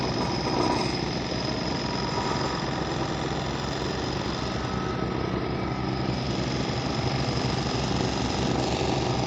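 A petrol earth rammer pounds a concrete mix for a basement plain cement concrete base, its engine hammering in a loud, rapid, steady pulse that continues without a break.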